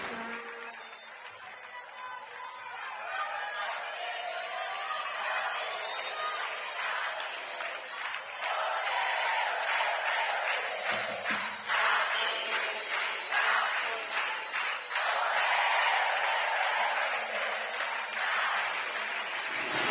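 Applause and cheering from a large concert crowd at a show at Estadio Obras in 2005, a sustained, dense wash of clapping that swells and stays loud throughout with no talk.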